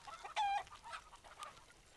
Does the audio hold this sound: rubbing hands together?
no